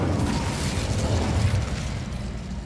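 An Incendio fire spell from Hogwarts Legacy erupts as a dense, roaring whoosh of flame, a broad continuous burst that holds loud for a couple of seconds and then eases slightly.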